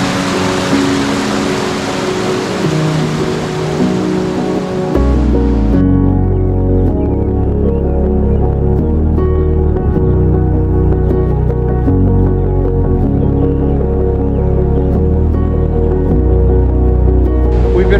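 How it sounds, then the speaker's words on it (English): Fresh mountain water flows into the Atlantic Ocean at Acadia National Park, heard as a loud, steady hiss of rushing water for about five seconds before music takes over. "Fresh water from the mountains flowing into the beautiful Atlantic Ocean"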